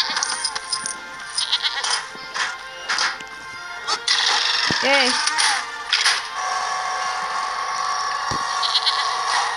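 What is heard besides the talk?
goat bleating in the video game Lego Jurassic World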